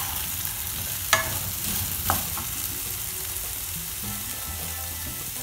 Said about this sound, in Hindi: अभी मैं इसमें कद्दू डाल लूँगी और फिर मैं इसको कुछ देर और चलाऊँगी।